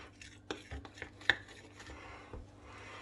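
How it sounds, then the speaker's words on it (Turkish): Flour being mixed into bread dough in a bowl, heard as soft scraping and a few light clinks of utensil against the bowl, one sharper tap near the middle, quiet and close with no talking. "Tekrar güzelce karıştırıyorum."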